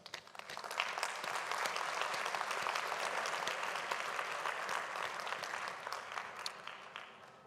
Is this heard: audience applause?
yes